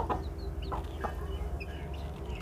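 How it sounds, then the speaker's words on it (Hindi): Seal breed roosters and hens cluck softly nearby in a few short, scattered calls over a quiet farmyard hum, with no talking. "उन्होंने रखे हुए हैं सील मुर्गा, सील मुर्गे और मुर्गियाँ।"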